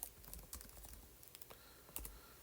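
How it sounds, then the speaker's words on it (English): Keys on a computer keyboard clack in quick, uneven bursts, close and fairly soft, with short pauses between the clusters of presses. "Okay, my keyboard's not working"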